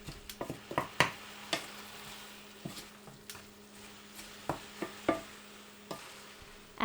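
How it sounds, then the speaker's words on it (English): Celery and green onion with bouillon sautéing in a pan for a squid and pineapple stir-fry: a quiet background sizzle broken by scattered sharp spatula clacks and taps against the pan, with no one speaking. "Sauté until the greens are wilted."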